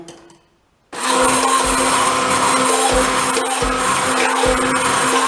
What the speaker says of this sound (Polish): i blenderem miksujemy poruszając w górę i w dół